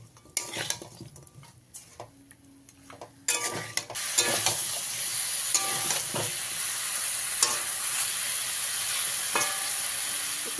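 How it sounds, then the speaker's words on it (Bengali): Chicken pieces and potatoes sizzle and spit in hot oil in a pan for a chicken stew, with scattered stirring and clinks of a utensil at first, then a steady, loud frying hiss that fills the rest. "একটু ভালো করে ভাজা ভাজা করে নেব।"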